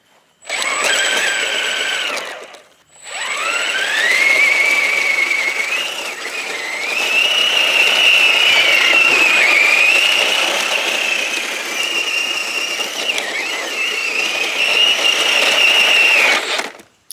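Brushless motor of an RC Snowcat on a 6S LiPo battery revs with a loud, high electric whine, pausing briefly, then running steadily with rising and falling pitch for most of the stretch.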